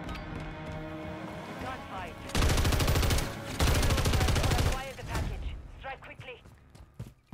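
Shotgun fire in Call of Duty MW3 during a one-on-one match: two long, loud bursts of rapid blasts separated by a short gap, with quieter game sounds and voice fragments around them.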